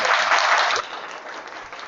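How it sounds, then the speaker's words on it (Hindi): A stand-up comedy crowd applauds for teachers with a full, hissing wash of many clapping hands that holds loud for under a second, then drops to a softer, steady patter. "तो उन टीचर के लिए एक बार ताली बजाइए जो कम बजट में आपको इतनी अच्छी शिक्षा देते हैं।"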